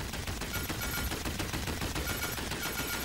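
Continuous gunfire in the video game Paladins from a weapon held firing for a couple of seconds, a loud, unbroken rapid stream of shots with no talking.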